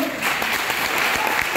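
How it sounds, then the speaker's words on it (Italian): A short stretch of dense audience applause, steady and fairly loud throughout. "Facciamo un grande applauso!"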